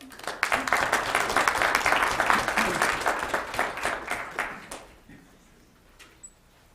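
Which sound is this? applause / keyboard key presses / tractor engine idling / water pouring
applause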